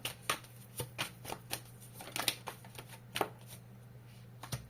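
Tarot cards being shuffled and drawn, a quiet close series of crisp riffling and slapping bursts at an irregular pace over a low steady hum, with no talking.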